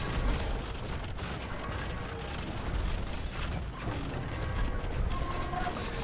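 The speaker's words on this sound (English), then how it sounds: "Cannons doing the job" Cannons firing in a Byzantines versus Teutons match of a medieval strategy game, a steady dense rumble of booming shots and mechanical clatter running throughout at moderate loudness, with no talking.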